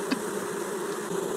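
Honey bees buzz steadily at a hive, a dense continuous drone close by with a brief louder flick near the start and no voices.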